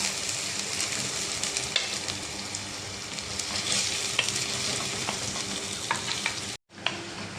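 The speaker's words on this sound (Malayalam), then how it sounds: "ഇനി വെളുത്തുള്ളിയും ഇഞ്ചിയും കൂടെ ചതച്ചത് ഞാൻ എല്ലാം ചതച്ചെടുത്തേക്കുന്നതാണ്. ഇതും കൂടെ ഒന്ന് മൂപ്പിച്ചെടുക്കാം." Crushed garlic and ginger sautéing with onions in a pan, steady close sizzling with intermittent stirring clicks, briefly cutting out near the end before resuming.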